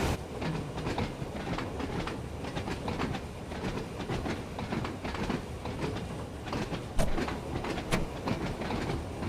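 A Red Rattler electric train on a Sydney line in Train Sim World 2 rolls along with a steady rumble and rhythmic clickety-clack of wheels over rail joints, one sharper clank partway through, with no voices.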